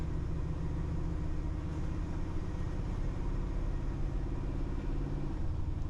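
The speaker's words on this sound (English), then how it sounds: "Taking off, mild throttle again." Car engine pulling away under mild throttle and shifting up through the gears on outer town streets, a steady low rumble heard from inside the cabin, continuous and moderate in level.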